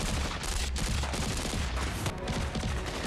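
Gunfire from a shootout in the Thai drama series KinnPorsche: a loud, dense, continuous fusillade of rapid overlapping shots, sustained throughout without any voices.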